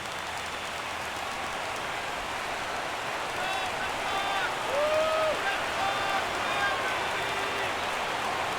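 A stadium crowd at a video game baseball match in MLB 17 The Show rises into a sustained roar of cheering for a 3-2 count, swelling midway and holding loud, with whistle-like tones and a commentator's voice over it.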